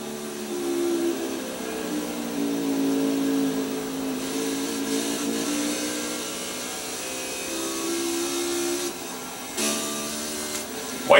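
NASCAR stock car engines roar around Phoenix International Raceway in a racing video game on the final lap, a steady droning whine that shifts pitch through the turns, loud and continuous with no talk over it.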